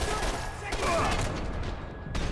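Gunfire in the video game Max Payne 3: dense, noisy bursts of shots crackle over a continuous roar of game sound, with a sharp loud burst near the end.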